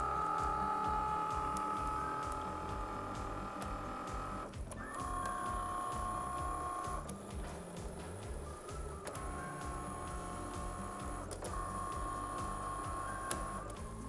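A cutting machine scores and cuts heavy board on a mat, making two passes over each line. It gives a continuous close whir with a rhythmic carriage chatter and a motor whine that pauses and restarts at regular intervals.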